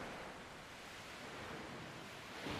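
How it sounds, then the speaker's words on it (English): Ocean waves in the video game Dragon Age Inquisition make a steady, soft, hissing wash of surf that swells slightly at the end, with no voices. "Oh, it's the waves."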